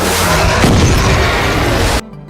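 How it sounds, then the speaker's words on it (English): Fireworks exploding during a monster battle scene from Stranger Things, a loud sustained barrage of booms and crackling blasts that ends abruptly into near silence. "The kids hold back the Mind Flayer with Lucas's fireworks"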